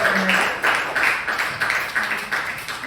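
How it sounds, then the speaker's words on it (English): A small storytelling audience gives a short round of claps in a room, soft, rhythmic and slightly distant, with faint background murmur. "I just want to have a round of applause"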